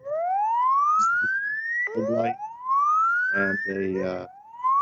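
Wailing, rising electronic siren tones from a battery-powered ShakeAlert earthquake early-warning personal receiver, sweeping up repeatedly and sounding loud and close, with someone briefly speaking over part of it.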